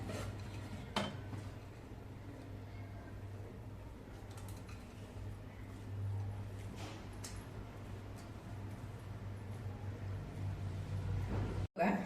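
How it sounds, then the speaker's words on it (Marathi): Sesame and jaggery ladoo mixture scraped from a kadhai, faint metallic scrapes and knocks of a spoon against the pan over a low steady hum, with a sharp clank near the end. "आपण सगळं चांगलं कढईचं खरवडून काढूया"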